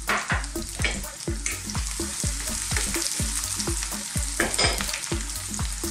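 Onions stir-frying in a wok for a broccoli and tofu dish, a steady loud sizzle broken by regular scraping stirs of the spatula, with no voices.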